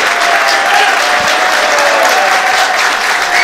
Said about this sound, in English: Lots of applause for this very gracious loser, Sameh Sidhom from Egypt.